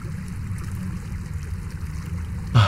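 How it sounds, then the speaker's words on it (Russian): An underground river splashing and rushing in The Warlock of Firetop Mountain video game, a steady, even stream of water noise throughout, ending in a short low thump. "Ты слышишь плеск воды и пытаешься вдохнуть."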